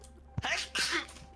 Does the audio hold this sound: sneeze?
yes